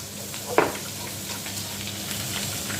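Onions frying with pepper paste in a pan while being stirred: a steady, soft sizzle throughout, with one brief clatter of the spoon near the start.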